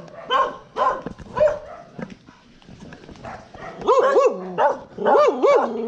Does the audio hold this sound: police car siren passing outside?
no